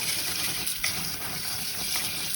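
Tap water pours steadily into a kitchen sink to soak sticky rice, making a constant, close rushing and splashing with small shifts in tone as the flow strikes the grains and basin.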